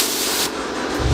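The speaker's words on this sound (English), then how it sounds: "This one looks like it doesn't though, but I'm still gonna spray it." A short, steady hiss of cleaner sprayed onto a Lexus ES330 rear brake rotor, close and continuous for about a second.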